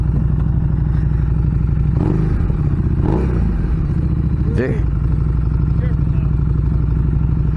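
A 2019 Harley-Davidson Street Rod motorcycle runs close by at a dealership demo, its engine holding a loud, steady throbbing rumble with a few brief throttle blips, and voices come through faintly.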